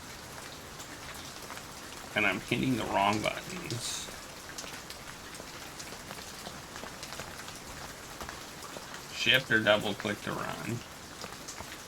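Steady rain falls throughout a video game scene, a constant soft hiss of drops, while a person talks briefly twice over it.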